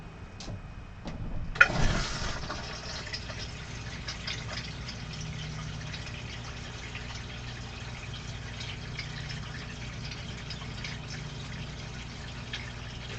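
Water running through a sluice box in a shed: a sudden rush of flowing water starts after a couple of small knocks, then settles into a steady, even wash that continues throughout, close and moderately quiet.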